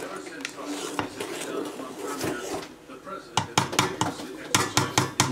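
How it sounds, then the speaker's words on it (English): A spoon stirs and scrapes thick, boiling feijoa pulp in a pot, with irregular clinks and knocks against the metal sides that quicken into a run of sharp taps near the end. "now keep boiling it and stirring it"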